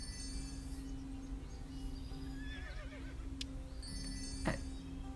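Horses in the Hay Day farming video game give a couple of short whinnies, heard over steady background music and ambient farm sounds, with one brief louder call near the end.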